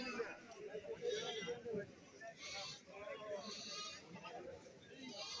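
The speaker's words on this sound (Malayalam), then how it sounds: "കറവയുള്ള ആടുകളാണ് ഈ ഭാഗത്ത് നിൽക്കുന്നത്" Goats at a Kerala goat market, including milking goats, bleat repeatedly amid a murmur of people talking and crowd chatter, fairly faint overall.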